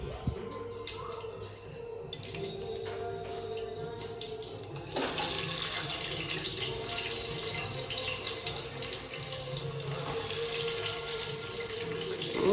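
A kitchen tap runs in a steady, close hiss of water while dishes are washed in the sink, the flow swelling louder partway through, with occasional clinks and faint background voices.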